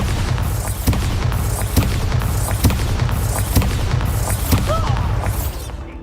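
Bombarda blasting spell in a Harry Potter video game, a string of loud, booming explosions recurring roughly every second over a dense, continuous roar of game effects.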